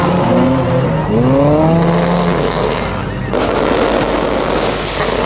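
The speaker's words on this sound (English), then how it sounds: "So fireworks are plenty." Crackling bursts of fireworks pop over a loud roaring engine and crowd noise at a banger car race on a shale raceway in King's Lynn, with a car revving past.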